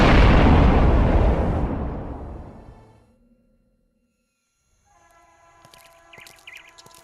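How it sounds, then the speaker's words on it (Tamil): A bomb goes off in a film scene with a huge, close roar that slowly dies away into silence, followed by faint ringing tones and light scattered clatter. "டேய் பாம்டா."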